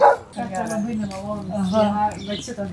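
A small dog arriving at a campsite gives high, drawn-out whimpering yips and whines, close and fairly loud, running almost continuously through the short stretch.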